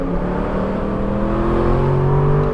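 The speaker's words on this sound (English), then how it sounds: "This ferocious roar is chasing you up this canyon." An Aston Martin V8 Vantage S Roadster engine roars loudly and continuously as it accelerates up a canyon road, its pitch rising steadily with no voices.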